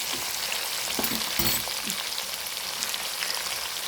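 Crushed ginger and garlic frying in oil in a pan for a home-style chicken curry, a dense, even sizzle crackling steadily close by, with a few soft stirring knocks early on.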